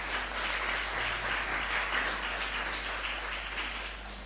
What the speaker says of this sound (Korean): 우리 옆에 있는 분들 박수로 환영하겠습니다.